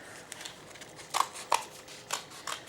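Scissors snipping paper into octopus shapes in a quiet classroom: a handful of crisp, close cuts in an uneven rhythm, with soft paper rustling between them.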